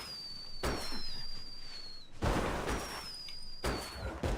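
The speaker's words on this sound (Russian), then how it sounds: "Фейерверки." Rising whistles followed by sharp bursts and crackling booms, a few fireworks going off in a row in the game Genshin Impact, fairly loud and close.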